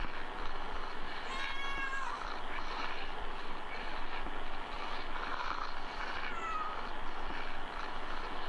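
Cat meows from the video game Kentucky Route Zero, two short mewing calls set against a steady low ambient rumble that persists throughout.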